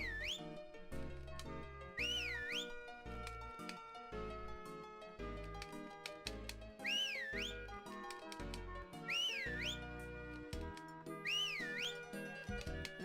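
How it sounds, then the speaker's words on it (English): Short rising-and-falling whistle notes repeat in the video game Harvest Moon: Magical Melody, five or six clear bursts over a bouncy game music track, no speech. "let's finish some whistling here"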